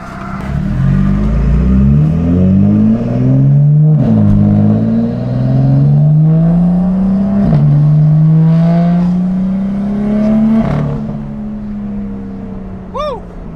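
A BMW M2 with a VRSF catless downpipe and exhaust valves open, revving repeatedly up close in sport mode: loud rising engine pulls, a sharp drop between revs, and crackles as the revs fall back.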